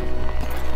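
Hooves of a horse clip-clopping while being ridden on a trail, quick close thuds in a steady gait over less than a second, loud, with no talking.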